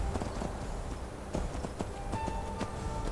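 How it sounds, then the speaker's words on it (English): Rhythmic clip-clop of a horse's hooves on a path while riding in the video game Skyrim, steady repeated thuds at a trotting pace with no talking. "I may cut out some of the mundane horse riding here."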